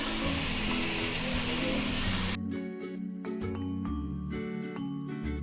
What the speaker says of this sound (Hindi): दो से 3 मिनट हम टमाटर को पकाएंगे।